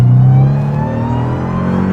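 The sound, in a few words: supercharged Dodge Durango engine revving with supercharger whine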